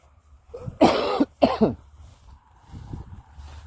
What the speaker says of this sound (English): so I'm going to have to cough.